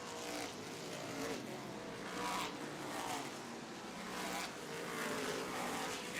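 Modified race cars roar around Star Speedway, engines droning steadily with surges as cars pass, heard from a distance and loud and continuous, with faint commentary underneath.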